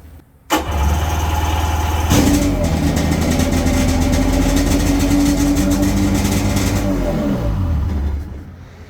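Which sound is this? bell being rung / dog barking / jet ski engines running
jet ski engines running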